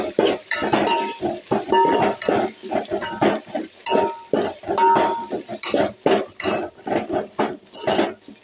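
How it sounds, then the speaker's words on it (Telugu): Tomato pieces frying in a pan with ginger and onion for an okra tamarind stew make a close sizzle, broken by rhythmic stirring and clinks of a utensil against the pan. "ఇప్పుడు టమాటా ముక్కలు వేసాను."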